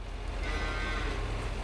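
Cattle lowing in a Farming Simulator 22 farm setting, a steady continuous moo that holds at an even loudness through the whole short stretch, with no talk over it.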